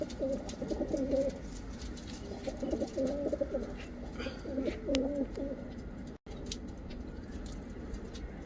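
Pigeons coo in soft, repeated throaty bursts over a steady low rumble of background noise.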